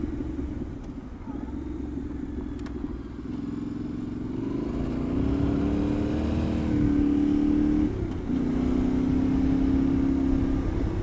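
A Yamaha Tenere 700 motorcycle being ridden, its engine droning steadily close up with rising and falling revs through gear changes, plus a brief dip in the middle and wind noise throughout.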